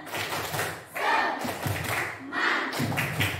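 A class of primary school children claps together in a fast, rhythmic pattern of bursts and pauses, with voices chanting along between the beats.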